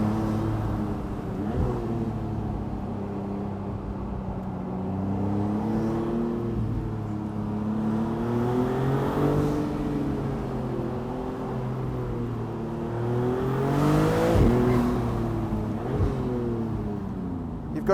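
A 2026 Maserati MCPura's boosted high-performance engine on a test drive, heard from inside, droning and swelling through repeated rises and falls in revs as it accelerates and shifts, steady and moderately loud throughout.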